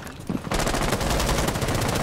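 Sustained automatic gunfire from the tactical shooter Rainbow Six Siege erupts after a brief quiet opening, a dense, loud, rapid stream of shots continuing to the end.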